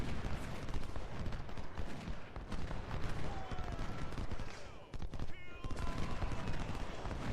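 Cannons boom in a Civil War battle at Chantilly in the strategy game Ultimate General: Civil War, a dense, continuous barrage of overlapping blasts and crackling fire with a voice talking over it at times.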